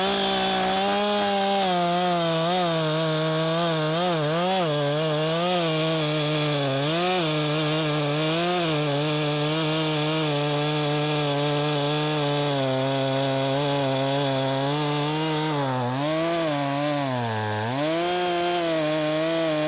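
An Echo 620P chainsaw with a long bar bucks and noodles wet cottonwood firewood, its engine droning loud and close without pause, the pitch dipping and rising as the chain bogs into the wood and revs back up.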